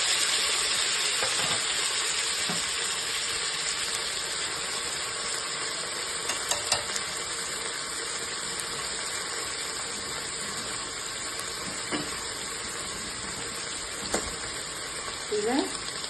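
Green chilies, onion and tomato fry together in a pan, a steady broadband sizzle running throughout with a few light utensil clicks and scrapes, moderately loud and close.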